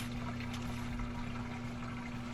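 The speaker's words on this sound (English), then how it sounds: "That's what a drain pump sounds like." A replacement drain pump in a Samsung FlexWash washing machine hums faintly and steadily, with a low motor tone under a soft wash of draining water and no voices.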